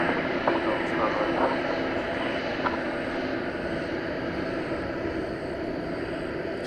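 Airbus A319 airliner arriving at DFW Airport at night, a steady distant engine roar filling the air, with a person talking over it.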